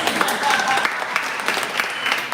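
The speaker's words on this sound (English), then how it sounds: "give them a round of applause" A burst of steady applause from an audience, loud and close, clapping continuing evenly for a couple of seconds.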